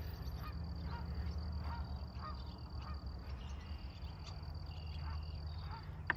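Several geese honk repeatedly in the distance over a steady low rumble, their calls scattered and faint with no voices nearby.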